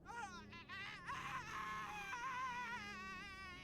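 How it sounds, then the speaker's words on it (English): A person screams and wails in the point-and-click adventure game Mystery of the Druids, a wavering, drawn-out cry rising and falling over several seconds against a low background rumble. "somebody's screaming out. Someone's having their nightly screaming exercise."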